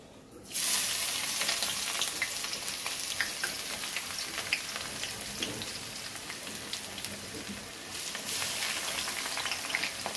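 Chicken cooking in ground spice paste with grated onion sizzles steadily in a pan, a continuous dense frying hiss broken by occasional spatters, close and alone.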